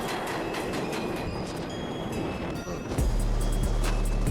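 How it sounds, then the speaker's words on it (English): A Manhattan-bound local 7 subway train rumbles and rattles steadily close by, its wheels clattering on the track, then a deep, loud low drone sets in near the end. "There is a Manhattan bound local 7 train"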